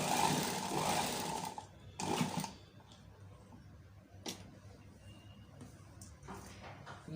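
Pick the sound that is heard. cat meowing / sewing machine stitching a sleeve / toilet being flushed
sewing machine stitching a sleeve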